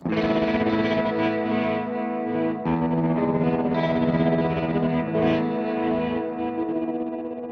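Electric guitar through a Guitar Rig 7 modulation effect driven by a sine wave, playing sustained chords with a swirling chorus-like shimmer and light distortion, loud and continuous with a brief break near the middle.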